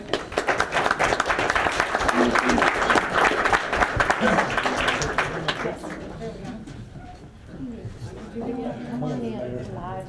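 Audience applause fills a city commission meeting room, steady clapping for several seconds that tapers off as a speaker begins talking.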